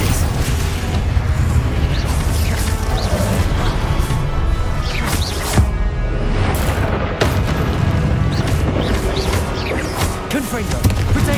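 Confringo and Glacius spell blasts in Hogwarts Legacy land as loud, dense, back-to-back booms and crashes over a constant roar of combat noise.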